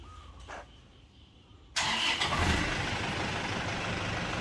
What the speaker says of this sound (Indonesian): Coba dinyalakan untuk performa mesinnya.